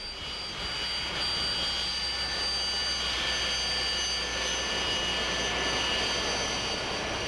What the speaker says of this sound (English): This snub-nosed attack plane is simple, sturdy, fast, and highly maneuverable.